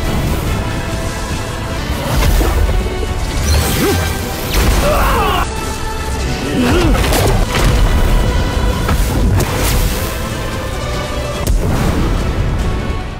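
A thunder technique in an animated fantasy series erupts in repeated heavy booms and crashes, loud and dense, with whooshing bursts layered through a continuous roaring battle score.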